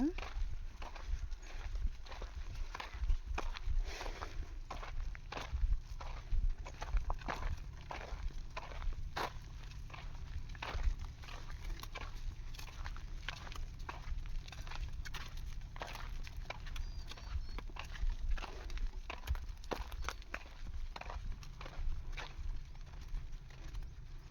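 Buffalo hooves clop steadily along, a continuous walking rhythm of many animals at moderate distance, with a voice talking over them.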